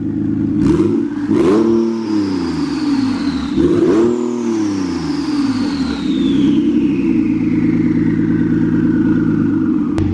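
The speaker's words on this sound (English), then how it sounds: "Navo, give it a couple little revs." A twin-turbo Nissan 370Z engine idling loudly close by, revved sharply twice with rising and falling pitch, then settling back to a steady rumble.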